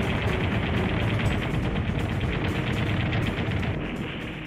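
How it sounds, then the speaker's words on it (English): Rapid cannon fire from a Bf 109 night fighter closing on a Mosquito in darkness, a dense burst of sharp reports running continuously and loudly for several seconds with no talk. "Chepianka slides behind the Mosquito, lines up his cannon, and fires."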